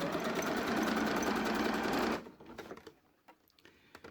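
A sewing machine runs a steady zigzag stitch over yarn laid on fabric, holding a loud, even whir for about two seconds before stopping abruptly, leaving only faint handling clicks.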